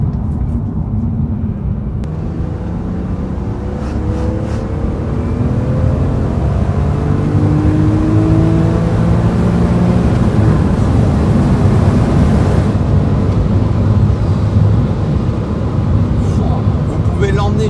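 A BMW M3 E46 engine pulls hard toward its 7,900 rpm red line, its loud, steady roar climbing in pitch across a long acceleration, close and continuous throughout.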